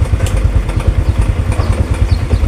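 A motorcycle engine runs close and loud with a rapid pulsing low throb, the throttle blipped slightly during a check of the bike's charging system.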